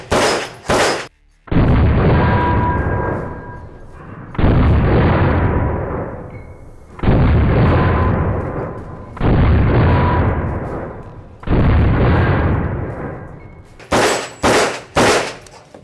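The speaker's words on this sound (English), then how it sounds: "Okay, let's shoot these guns. First off, the APC-9." A B&T APC-9 9mm carbine with a Glock magazine lower fires five separate bursts of loud, close shots, each followed by a ringing echo, with a few sharp single shots at the start and end.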